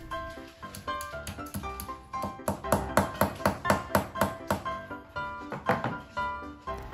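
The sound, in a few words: expansion bolts being hammered into wall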